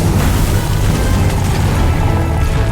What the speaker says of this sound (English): Rocket! Fireworks!